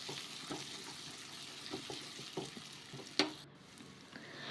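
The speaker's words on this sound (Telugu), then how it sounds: "తాలింపులో వేసుకొని ఒక 5 నిమిషాల పాటు వేపుకోవాలి" Ginger garlic paste sizzles in hot tempering oil for an aloo masala curry. The frying hiss is steady and close, broken by scattered crackles and a louder pop near the end.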